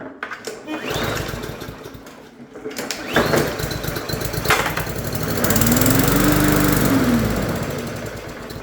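A Yard Machines 20-inch lawn mower engine with a freshly cleaned carburetor, running on residual solvent, sputters through a couple of pull-start cranks, then catches and roars loudly up close for a few seconds before winding back down.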